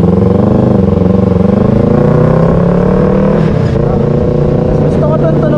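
A Yamaha R3 sport motorcycle fitted with an M4 aftermarket exhaust revs close by with a loud, steady, throaty drone whose pitch rises and falls with the throttle.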